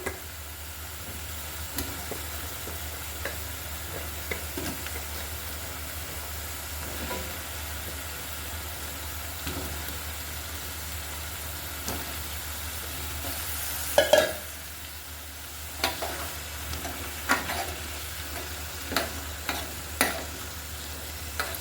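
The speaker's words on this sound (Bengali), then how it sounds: "এই পর্যায়ে আমি লাউগুলো অ্যাড করে দিচ্ছি।" Bottle gourd pieces tumble into a frying shing fish curry and get stirred, a steady low sizzle running throughout with scattered scraping clicks of the spoon against the pan, a few sharper knocks near the middle and end.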